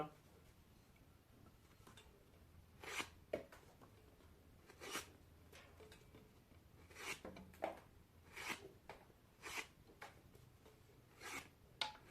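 An X12MF steel knife (HRC 60-61) slices 3.5 mm cowhide belt leather, giving several sharp, separate cutting strokes with a rasping edge, close up over quiet room noise.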